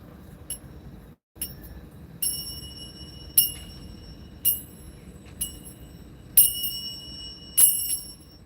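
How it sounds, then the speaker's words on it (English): A bell at Sunset Beach, California, is struck about seven times, each hit a bright, ringing clang that decays quickly. The strikes come roughly a second apart, close and clear over low background noise, with no talk. "And I did the ringing of the bell."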